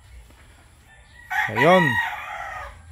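A gamecock rooster gives one loud, close crow with a rising and falling call and some clucking at the start, against a quiet background, with a brief spoken word nearby.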